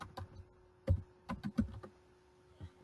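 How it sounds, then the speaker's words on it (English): Close, soft keystrokes on a computer keyboard as a patient's last name is typed, a short uneven run of quiet taps with pauses between them. "I'm going to type in their last name and then click search."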